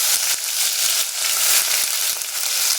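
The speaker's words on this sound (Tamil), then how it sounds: "கருவேப்பிலை எல்லாத்தையும் ஒன்றா போட்டுறாரு. இந்த மாதிரி பொரிச்சிடணும்." Onion, garlic and curry leaves sizzle while frying in a pan, a steady, close, bright hiss with small crackles and pops throughout.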